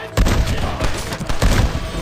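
Loud, rapid bursts of gunfire crackle in quick succession, with heavy booming impacts, from a shootout in the video game Red Dead Redemption.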